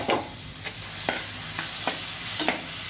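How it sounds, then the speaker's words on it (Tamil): Onions sautéing with ginger garlic paste in a pan for a village-style vegetable biryani, a soft steady sizzle broken by several sharp scrapes and clacks of a spoon stirring, with no talking. "இப்போ பச்சை வாசனை போகிற அளவுக்கு இஞ்சி பூண்டு பேஸ்ட்டு சேர்த்து நம்ம நல்லா வதக்கிடலாம்"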